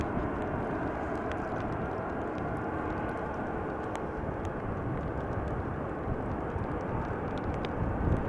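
A Boeing 737-800 on the runway at Amsterdam Schiphol Airport gives a steady, distant, even jet engine roar that holds level throughout with no talking.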